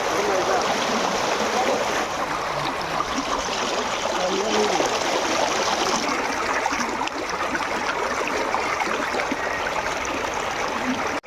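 Stream water flows steadily in a forest area at dusk, a continuous broadband rush and trickle that stays close and even throughout with no breaks.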